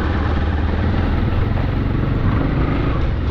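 Motorcycle ride toward Magarkot near Kawasoti in Nawalpur, Nepal, a steady loud engine drone blended with heavy wind rush, continuous and close with no talk.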